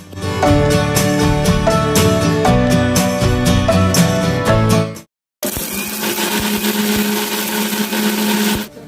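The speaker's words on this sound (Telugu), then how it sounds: "ఒక మిక్సీ జార్ తీసుకొని అందులో రెండు మూడు యాలకులు వేసి బోందీని వేసి మిక్సీ పట్టుకోవాలి" A mixer grinder jar grinds boondi with two or three cardamom pods, a loud, steady whirring roar that cuts out briefly midway and then starts again.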